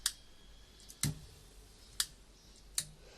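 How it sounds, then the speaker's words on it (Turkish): Four sharp, crisp clicks of the on-off switch on a dual AC/DC power supply for a high-speed motor sound close by, spaced roughly a second apart against a quiet background hum. "Bakın çıt sesini duyacaksınız."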